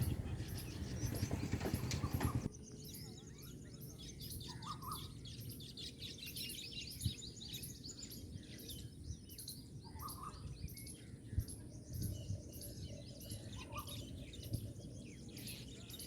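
Small birds chirp and tweet around a Punjab village in foggy, rainy winter weather, with repeated calls scattered across the scene over a steady low outdoor rumble, after a louder noisy start.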